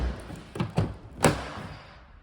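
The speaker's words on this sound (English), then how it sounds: "The rear doors open nice and wide" A Ford Focus Zetec Estate's rear door is opened: a couple of quiet latch clicks followed by a soft thunk, close by in an otherwise still space.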